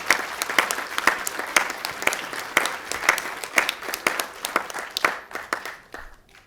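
An audience at a graduation ceremony applauds award recipients, with many hands clapping steadily at close range before the applause thins out and fades near the end.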